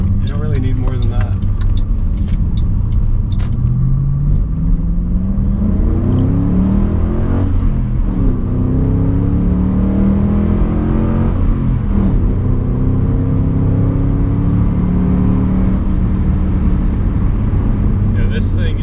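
2008 Ford Mustang GT accelerating hard from a standstill to about 45, a loud, continuous engine rumble heard from inside the car with pitch climbing through the gears and dropping at each shift, while people talk over it.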